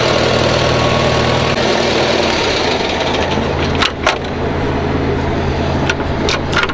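A Massey Ferguson 1135 tractor engine idles close by, a loud, steady low diesel rumble that runs through the whole clip, with a slight shift in tone partway and a few faint clicks over the drone.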